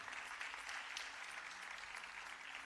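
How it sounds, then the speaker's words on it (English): Steady applause from an audience at a Bharatanatyam dance recital, dense clapping that holds at an even level throughout with no voices over it. "Please give a round of applause for Guru Srimati Shubhangi Bhalerao"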